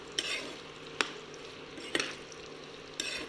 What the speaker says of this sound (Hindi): तो सबसे पहले मैं थोड़ा सा प्याज जो है वो भून लूँगी।